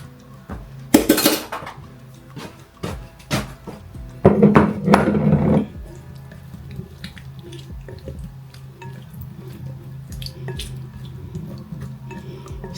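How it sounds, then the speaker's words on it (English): Tofu being stirred in a pan with soy sauce, a few clattering scrapes and knocks of utensil against the pan, two louder bursts of stirring noise and quieter intermittent clicks afterward. "now we're going to give it a stir."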